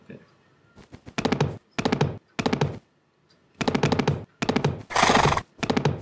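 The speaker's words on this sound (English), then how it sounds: "we have here the horse" Horse whinnies in the Minecraft Homiepack mod, several loud, clipped neighing bursts in a row separated by short gaps, with one harsher, noisier burst near the end.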